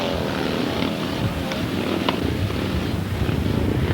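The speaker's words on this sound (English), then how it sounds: "Roger and Jeff Measer on the 4-cylinder Honda with the chassis that they made themselves" A 4-cylinder Honda engine in a home-built chassis races a grasstrack meeting, a steady, dense drone that stays loud and unbroken throughout with no talk over it.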